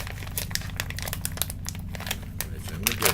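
A plastic pouch of Ball Park flame grilled BBQ pork jerky crinkles and tears close up in a quick run of sharp rustles and snaps, with a soft low hum underneath.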